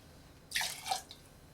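Sake poured into a cocktail glass for a saketini: a short, quiet liquid trickle lasting about half a second, with a faint drip just after, and no voices.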